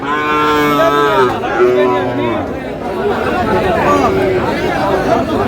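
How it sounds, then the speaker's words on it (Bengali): Cattle, including Sahiwal bull calves, moo loudly and repeatedly at the traditional Aftabganj livestock market in Dinajpur, with crowd chatter all around. "আর এখানে একটু দুটি গরু দেখছিলাম"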